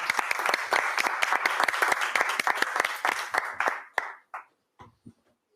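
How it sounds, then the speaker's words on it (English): An audience at a Republicans versus Democrats debate in Luxembourg bursts into loud, sustained applause, which thins into a few scattered final claps and fades out. "Big round of applause."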